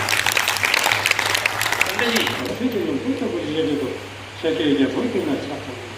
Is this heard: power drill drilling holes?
no